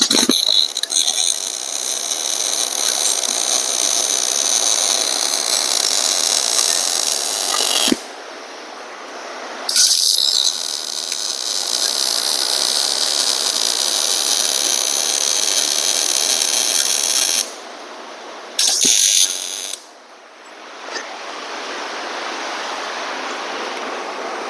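Welding on a weedeater rack, a steady bright crackling hiss in long sustained runs broken by brief pauses, then a short burst and a quieter lingering hum after the last bead.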